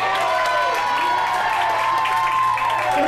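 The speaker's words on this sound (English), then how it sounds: "Round of applause real quick." A crowd at an event applauds and cheers, with a continuous wash of clapping at moderate volume and a faint steady hum underneath.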